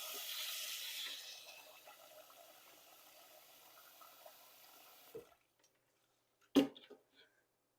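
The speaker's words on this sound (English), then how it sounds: "Next, cover with water to the indicated level." Water runs steadily into a pot of brown rice for several seconds, tapering off, followed by a couple of sharp knocks of the pot being set down.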